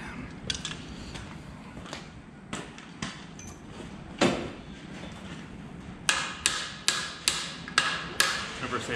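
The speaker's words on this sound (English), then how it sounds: "Press when you hit with a hammer." A hammer strikes a part on a Ford Escort Mk2 rally build with an ST170 engine, pressing it back out: scattered sharp metallic knocks, then a steady run of about seven evenly spaced blows, close and loud.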